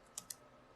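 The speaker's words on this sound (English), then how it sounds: "I'm going to type in dig oxygen.local at" Two quick, faint keystrokes on a computer keyboard while a dig command is entered at a console, each a crisp isolated click in a quiet room.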